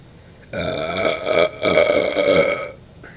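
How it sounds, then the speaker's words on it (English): A long, loud, close burp, drawn out over a couple of seconds with a short break in the middle. "That's a copywritten burp."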